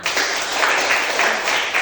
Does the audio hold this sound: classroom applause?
yes